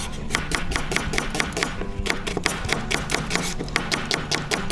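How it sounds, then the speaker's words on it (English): A knife slices onions on a board in quick, steady, evenly spaced chops, close and crisp. A low background hum runs under the cutting, with no talk. "Slice the onions."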